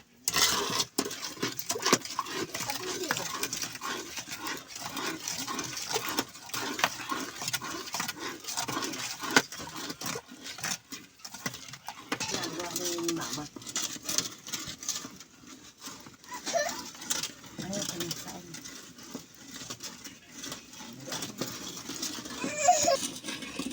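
Continuous scraping and tapping of a utensil stirring melting sugar in a pan for biko, with a soft patter throughout and brief clinks, close and steady.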